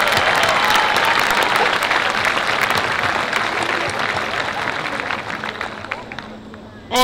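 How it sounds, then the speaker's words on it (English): A college convocation audience gives the football team a loud round of applause, a dense roar of clapping with some crowd murmur that gradually tapers over several seconds before a sudden sound at the very end. "How about giving them a round of applause?"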